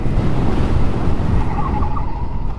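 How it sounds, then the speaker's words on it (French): Suzuki DR-Z400SM motorcycle drifting, a loud continuous rush of engine and tire noise with a faint squeal rising toward the end, close by and without talk. "J'espère que les images vous montrent le drift en train d'arriver, parce que c'est très impressionnant."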